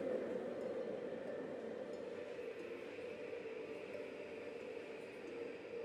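A subway train rumbles through an underground tunnel in a visual novel game, producing a constant, even roar with a steady midrange hum and no breaks or talking.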